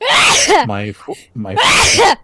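A person sneezes twice, loud and close, with brief vocal sounds between the two bursts, amid casual gaming chatter.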